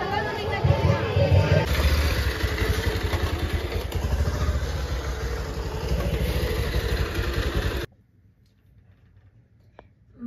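A motorcycle ride at night brings a loud rumble of engine and rushing wind for about eight seconds, with people talking over it, then an abrupt drop to near silence.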